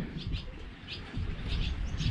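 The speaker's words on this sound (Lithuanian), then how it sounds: "Čia nuomininkai, kregždės." Swallows nesting along a river twitter in short, bright bursts over a low rumble, heard from a boat on the water.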